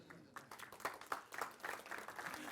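A conference audience gives a brief round of applause, faint and distant, a short patter of clapping hands lasting a couple of seconds.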